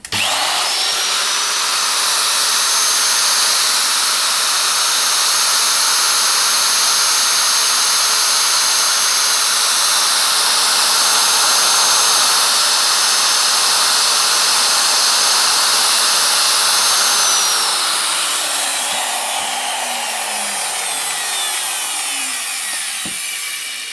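A Makita 4100NH power tile cutter runs loud and steady with a high whine for about twenty seconds, then spins down toward the end.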